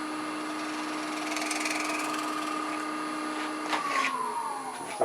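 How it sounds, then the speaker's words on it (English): A steady wood lathe whine with a constant hum, dropping in pitch toward the end as a depth drill bites into the wood to bore a center hole and slows. "using a depth drill, we're going to go ahead and drill a center hole"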